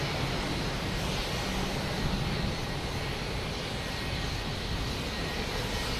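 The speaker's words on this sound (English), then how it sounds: "next taking off, we have a JetBlue A220 heading to Chicago" A JetBlue Airbus A220 bound for Chicago takes off at Boston Logan Airport, a constant dense jet roar holding level for several seconds with no voices over it.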